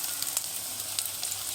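Chickpea-flour onion fritters fry over low heat in oil, giving a dense, steady sizzle with bright crackling pops, close and alone.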